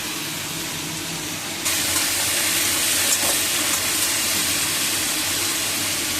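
Potatoes frying in a pan, where a quiet background gives way to a sudden loud, dense sizzle that holds steady to the end, with no talking.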